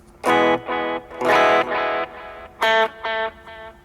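An electric guitar plays a short phrase of distinct notes, each trailing into soft delay repeats, with a slightly effected, shimmering tone.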